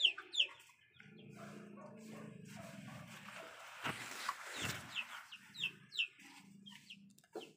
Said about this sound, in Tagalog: Ang ingay ng manok dito.